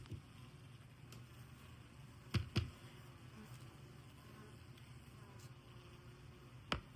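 Newly arrived honey bees buzz faintly and steadily in a quiet setting, with a few brief louder thumps or knocks breaking through the low hum.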